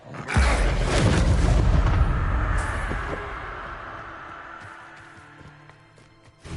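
A Bombarda blast spell in Hogwarts Legacy erupts as a heavy, booming explosion that rolls on and slowly decays over several seconds, with debris and combat sounds trailing off.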